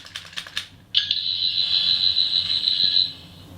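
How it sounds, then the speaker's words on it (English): A Doctor Who 14th Doctor sonic screwdriver toy sounds its alarm effect: a few soft clicks, then a bright, steady high-pitched electronic warble held loud for about two seconds before cutting off. "I think the 4th sound effect here, that's definitely an alarm."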